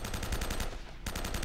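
Rapid automatic gunfire in Uncharted: Drake's Fortune chatters in a fast, even stream of shots, loud and dense, with only a fleeting dip near the end.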